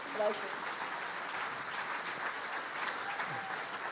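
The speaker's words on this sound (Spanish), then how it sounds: "Un fuerte aplauso, por favor, para nuestros 3 panelistas." A church congregation gives loud applause for three panelists after a discussion on grace, a broad wash of clapping with a few voices mixed in, holding steady for several seconds.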